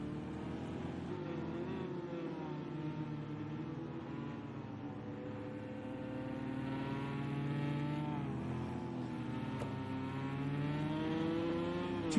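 Ford GTE race cars racing on the Nürburgring, a steady, loud engine drone with shifting revs and gear changes that rises slightly toward the end, with no talking.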